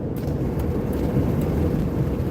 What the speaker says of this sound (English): I'll turn my air conditioner on.